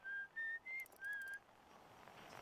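Whistled melody picked up through a signal scope in the video game Outer Wilds, a few clear sustained notes in a short phrase, then fading into soft static hiss.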